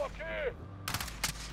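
Gunfire in the Call of Duty Warzone video game: two sharp bursts of shots close by, following a short stretch of game audio and a faint voice-like tone.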